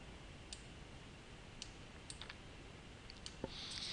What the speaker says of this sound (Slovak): Galériu otvoríme kliknutím na túto ikonu na paneli nástrojov.